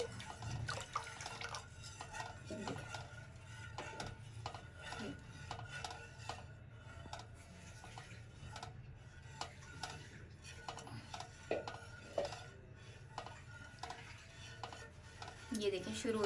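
A spoon stirs milk with vinegar in a pot, off the heat, while making homemade rasmalai. Faint scraping and clinking taps recur irregularly throughout, quiet and close in a kitchen.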